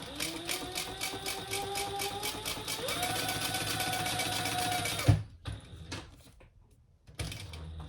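A sewing machine stitching in reverse on a crossbody bag project runs with a fast, steady mechanical whir for about five seconds, then stops, followed by faint handling clicks and a brief restart.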